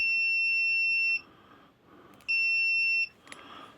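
Continuity beep from an Owon XDM1041 bench multimeter as its probes are touched together: two loud, steady high-pitched tones, each about a second long, separated by a short gap, with faint clicks between.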